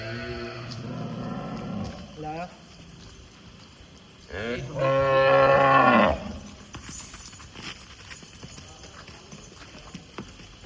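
Cattle at a dairy farm in a Punjab village let out two loud, drawn-out moos close by, separated by quieter background noise and faint voices.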